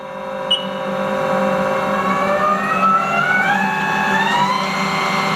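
A 2018 Haas ST10Y CNC lathe with its live tool spinning at 1,000 RPM gives a steady mechanical whine with tonal overtones that climb slightly in pitch. The sound is close, continuous and even in level, with no voices.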